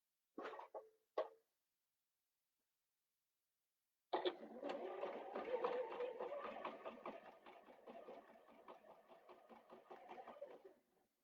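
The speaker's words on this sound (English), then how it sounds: "we're going to just sew all the way around it" A sewing machine stitches all the way around a fabric box. A few short bursts are followed by a pause, then a long continuous whirring run of rapid needle strokes, close and steady.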